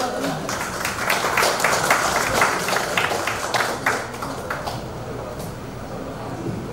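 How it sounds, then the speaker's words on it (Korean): Audience applause at an industrial complex event welcoming the chairman of the Dalseong 1st Industrial Complex management corporation, with steady clapping that swells and then thins out toward the end. "여러분 이사장님을 큰 박수로 맞아주시기 바랍니다"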